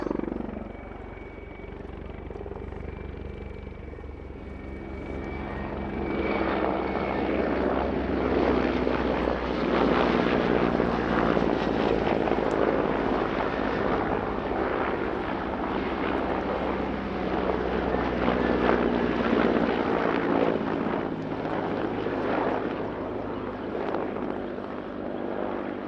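A Czech Air Force Mil Mi-24 Hind helicopter's heavy rotor and engine roar builds and holds steady, loud and close, with a constant droning whine throughout, at an air show.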